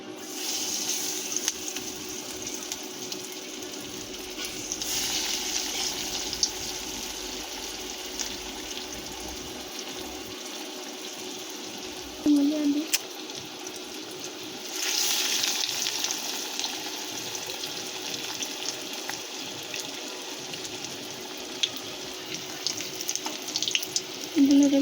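Egg cutlets fry in hot oil in a kadai on a gas stove, giving a steady close sizzle and hiss that runs throughout with no talking.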